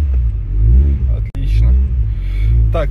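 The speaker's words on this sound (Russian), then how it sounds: "О, холодный запуск удался." Nissan Silvia starting from cold, a loud, deep engine rumble close to the microphone, steady at a high idle with a brief cut, while someone talks over it.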